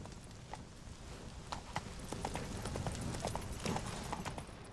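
A trotting horse in The Witcher 3 beats out an even, moderately loud clip-clop rhythm over a dense wash of ambient game noise, with no voices.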